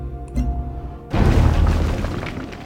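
A ship firing a long-range shot in the strategy game Civilization Beyond Earth Rising Tide, heard as one sudden loud boom that rolls on into a sustained rumble after a quieter opening.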